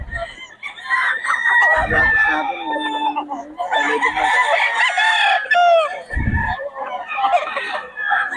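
Gamecock stags crowing at a busy rooster market in Bocaue, several loud overlapping crows and clucks close by, with people talking in the background.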